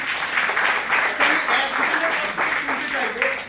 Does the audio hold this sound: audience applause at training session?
yes